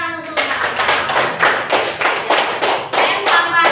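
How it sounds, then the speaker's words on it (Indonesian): Quick rhythmic hand clapping, about a dozen loud, close claps in an even beat, like a small group of students applauding in a classroom. "Ya, tepuk tangan untuk"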